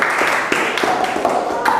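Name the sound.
classroom applause for a team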